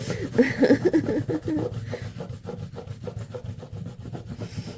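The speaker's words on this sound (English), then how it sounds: "So I like to try to restore sometimes what's underneath by like rubbing it out. I actually will use the steel wool." Steel wool scrubbing across paint on a painting's surface, a dense run of rough rubbing strokes, strongest at the start and then continuing steadily and close by, with no voices.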